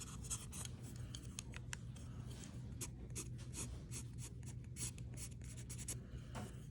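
A sharp tool, such as a needle tip or the broken end of a pencil, scratches ink marks onto paper in quick, repeated strokes, quiet and close over a low steady hum, with no talking.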